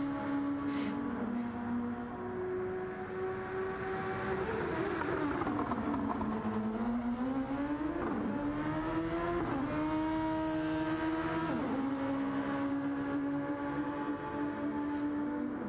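A race car engine during a fast lap in Gran Turismo 7 (Super Championship practice), steady high revs rising and dipping through gear shifts and corners, loud and continuous with no talk.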